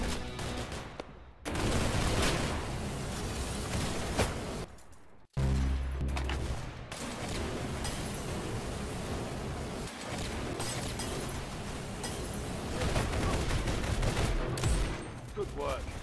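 Rapid gunfire in the Roblox video game, with dense bursts of shots and a short pause before the barrage resumes. A voice is briefly heard over the shooting.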